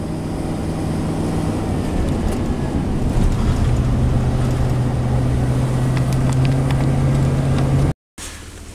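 A GM truck engine with a misfire revs under throttle, a loud, continuous low drone with a steady tone held for several seconds before cutting off abruptly near the end.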